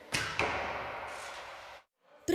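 Two sharp thuds of arrows released from a bow, each trailing off into a broad hiss, followed by a brief pause and another sharp hit.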